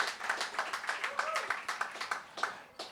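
Scattered audience clapping at a poetry open-mic event, a moderate patter of hands with voices speaking over it throughout.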